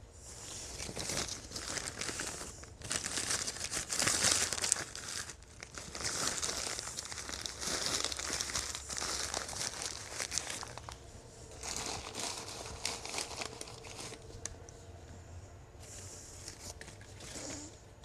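Paper crinkles, tears and crushes close up in continuous bursts while sculptures are wrapped and packed, the handling steady with brief pauses and no voice.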